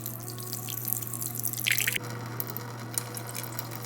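Rice is washed under running water at a kitchen sink, a steady close stream with splashing and dripping, and a brief louder rush of water about midway.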